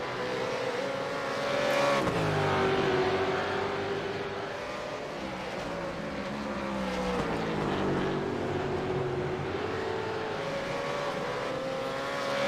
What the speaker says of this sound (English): There goes the Zuba car of Loxton, and he's past David Kimmons as well